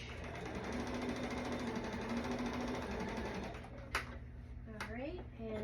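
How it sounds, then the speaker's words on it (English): Sewing machine stitching along a T-shirt seam, a continuous fast, buzzing mechanical whir that stops toward the end, followed by a couple of small clicks and a faint bird call, with a voice talking at times. "I'm just going to stitch actually along the initial stitch line here."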